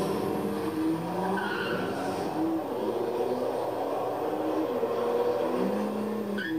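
Nissan GT-R accelerating hard on a race track on a hot day, engine note climbing in repeated rising sweeps as it shifts through gears, moderately loud with tire noise underneath.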